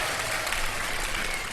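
Studio audience applauding on a TV quiz show, a steady dense patter of clapping heard alone for over a second.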